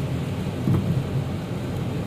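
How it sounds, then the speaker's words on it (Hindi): Heavy rain pours down on a road while a car drives through a downpour in Medina, making a dense, steady wash of noise with a low rumble throughout and no speech. "जो बारिश है वो बहुत तेज़ है।"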